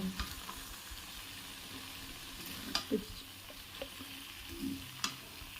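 Spices and vegetables sautéed in oil in a pan for a drumstick flower dish give a quiet, steady sizzle, broken by occasional louder scrapes and clinks of a spatula stirring.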